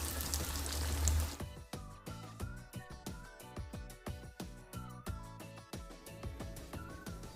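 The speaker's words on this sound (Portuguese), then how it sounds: "Frite as coxinhas imersas no óleo." Coxinhas deep-frying fully immersed in hot oil, giving a steady close crackle and sizzle with a brief louder hiss at the start as they drop in.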